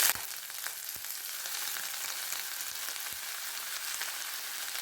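Brinjal pieces fry in hot oil in a pan, giving a steady, dense sizzle that holds evenly throughout with a few faint clicks of a utensil and no talking.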